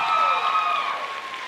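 Steady applause from a crowd at a school opening-day event, continuous clapping that holds fairly even and eases slightly toward the end.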